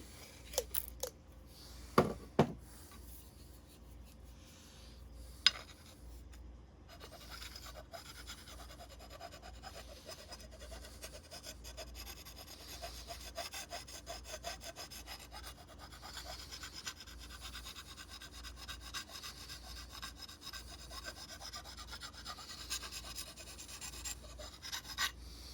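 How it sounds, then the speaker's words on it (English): Freehand sharpening of a turning roughing gouge on an oiled whetstone with concave and convex faces: steady, soft scraping and rasping strokes continue for most of the stretch after a few sharp knocks near the start, fairly quiet and close. "this is my whetstone that I use for my gouges"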